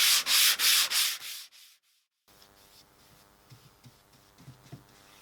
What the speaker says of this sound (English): So before the third coat, once again, take 220 sandpaper, same thing again.